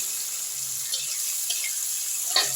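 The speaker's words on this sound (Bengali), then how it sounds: "পেঁয়াজ টমেটোটাকে আমি একটু ভাজা ভাজা করে নেব।" Chopped onion and tomato fry in oil for an egg and spinach dish, a faint, even sizzle with a few soft scrapes of stirring.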